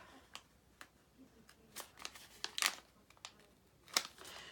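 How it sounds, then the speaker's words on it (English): Backing being peeled off a red rubber cling mount stamp: faint, close crinkly plastic rustles and small crisp snaps, with a couple of sharper peels standing out over near silence. "I'm going to peel both sides off"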